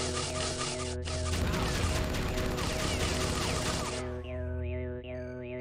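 Rapid gunfire and crashing effects from the video game Oddworld: Munch's Oddysee, dense and loud over game music for several seconds before fading into warbling tones.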